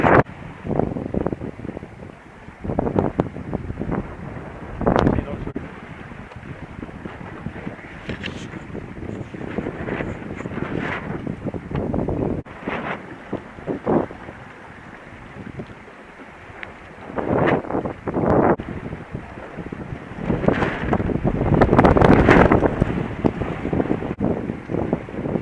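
Strong wind gusts buffet the microphone while a reefed dinghy sails through the Scottish Highlands, with water rushing against the hull. The gusts surge and fade in loud, irregular bursts, and short remarks from the crew come through now and then.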